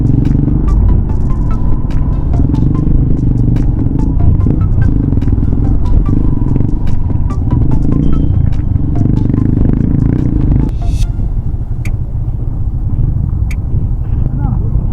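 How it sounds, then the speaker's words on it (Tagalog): A motorcycle rides over a broken cement road, its engine throbbing loudly and steadily close by while the frame rattles and clatters over the rough surface, with a voice talking over it. "Kailangan matibay talaga motor niya dito."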